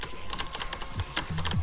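Rapid computer keyboard keys clatter in quick irregular bursts during intense play of a difficult platformer game, close and fairly loud, with faint low tones underneath.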